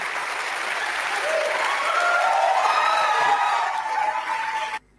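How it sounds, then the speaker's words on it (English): Audience at a debate clapping, a dense, sustained round of applause with a few scattered whoops and chuckles that stops abruptly near the end. "Look at these freaks clapping a guy who's defending genocide"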